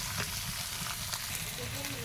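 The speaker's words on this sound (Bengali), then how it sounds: "এবার আমরা লঙ্কা দিয়ে নাড়াচাড়া করে আস্তে আস্তে কষিয়ে ভেজে নেব" Chilli and spices sizzle steadily with chopped tomato in a hot, oily pan. The frying hiss is loud, close and continuous, with faint stirring mixed in.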